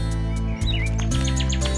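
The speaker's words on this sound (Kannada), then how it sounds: "ಮತ್ತೆ ಅಲ್ಲಿ ಆ ಹಕ್ಕಿ ನೋಡು, ಅದೇ ಕೆಂಪು ಕಾರ್ಡಿನಲ್." A red cardinal chirps in a park, a run of short, bright repeated tweets and a brief whistled call over a steady background hum, fairly close and clear with no talking.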